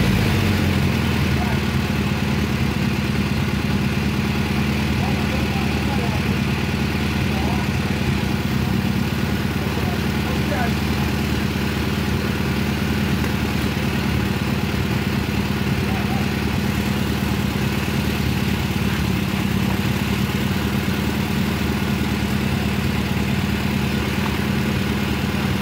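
A homemade forklift built on a VW Brasília chassis, its Brasília engine idling with a steady low rumble close by for the whole stretch, while people talk over it.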